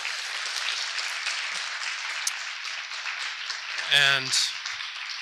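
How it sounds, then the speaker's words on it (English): Audience applause for jazz musicians on the bandstand at a jazz festival concert in Norman, steady broadband clapping sustained throughout, with a brief spoken word near the end. "Maybe I'll ask you one last round of applause for these incredible musicians on the"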